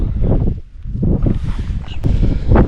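Strong wind across a rocky Norwegian desert, buffeting the microphone in heavy, uneven low rumbling gusts with brief lulls, loud and close.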